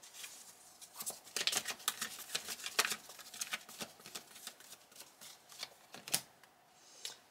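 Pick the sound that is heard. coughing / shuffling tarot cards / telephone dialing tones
shuffling tarot cards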